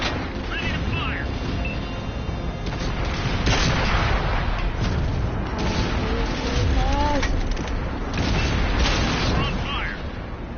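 Booming tank cannon shots and explosions in World of Tanks, several heavy blasts over a dense battle din, with voices talking over the noise.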